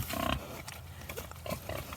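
Pigs grunt and oink in a farm pen at close range, several short harmonic calls in quick bursts with snuffling between them.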